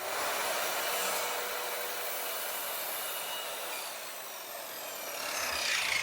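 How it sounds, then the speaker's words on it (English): A power saw cuts through timber in one continuous, fairly even buzzing rasp that dips slightly midway and swells again near the end, with no talking. "I'm going to cut down some timber to the same measurements as my post box"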